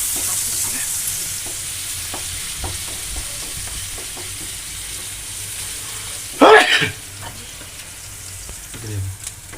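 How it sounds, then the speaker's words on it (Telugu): Sliced onions fry in a pan with a steady soft sizzle while a utensil stirs them. There is one sharp louder scrape partway through, and a voice murmurs faintly in the background. "వీటిని మంచిగా ఫ్రై చేసుకోవాలి"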